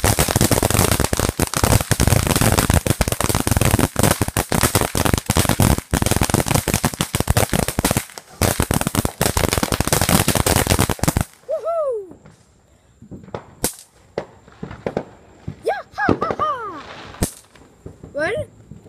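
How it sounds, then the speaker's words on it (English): Fourth of July fireworks in a Mario and Luigi setting, a loud dense run of bangs and crackles for about eleven seconds, then sparse scattered pops, with talk in the background. "Here's the fireworks."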